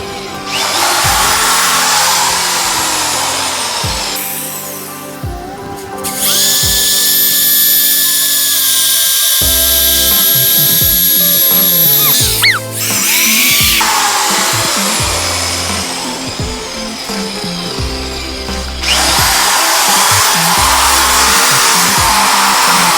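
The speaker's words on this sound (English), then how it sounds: "you can watch me drill a hole" A power drill whines loudly in long bursts, pausing briefly between runs, with grinding as the bit bores through material; no talking.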